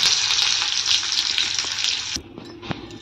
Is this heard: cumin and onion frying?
yes